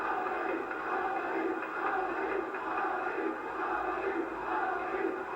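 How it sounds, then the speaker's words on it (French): A large stadium crowd before the 1962 European Cup final between Benfica and Real Madrid keeps up a dense, continuous roar of whistles and applause, heard from a distance on an old broadcast recording. "Des sifflets, des applaudissements, bref, une grande ambiance."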